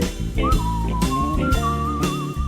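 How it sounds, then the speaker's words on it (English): Whistling through pursed lips, a clear melodic tune held over a loud sung and instrumental backing, continuous and upfront throughout. "Purse your lips and whistle, that's the thing."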